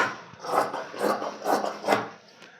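Scissors cut through blouse sleeve fabric in four or five quick rasping snips, close and fairly loud, with short pauses between strokes.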